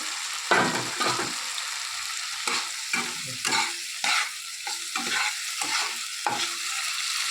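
Soybean chunks and egg being fried and stirred in a pan, bursts of sizzling and spatula scrapes coming in an uneven rhythm of stirs, close and fairly loud with no voices.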